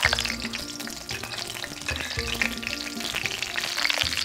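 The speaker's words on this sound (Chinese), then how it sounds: "稍微煸炒一下， 然后我们就可以把肉丸放进来" Meatballs stir-fried in a pan with ginger slices and scallion pieces in oil sizzle loudly and continuously, with scraping stir strokes breaking through the steady crackle throughout.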